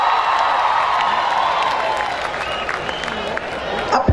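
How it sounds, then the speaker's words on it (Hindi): A concert audience applauds and cheers to welcome a singer onto the stage, a dense, steady wash of clapping and crowd noise that holds loudly throughout. "तालियों से स्वागत कीजिए।"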